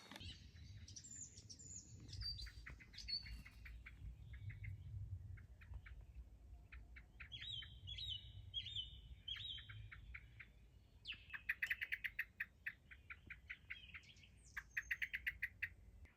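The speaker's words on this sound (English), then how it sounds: "I don't think I've ever heard such a loud chorus, and where I live we do get a lot of bird song" Dense songbird dawn chorus in the Lake District on a rainy day: many overlapping chirps, trills and repeated whistled phrases from several birds, fairly distant and soft over a low rumbling background.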